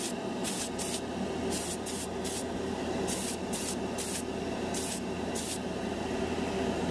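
A cheap $20 single-action airbrush sprays metallic craft paint in short repeated bursts, a steady close hiss from the compressor underneath with sharper spurts of spraying layered on top.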